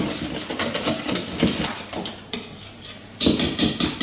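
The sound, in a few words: mixing apple fritter batter in a bowl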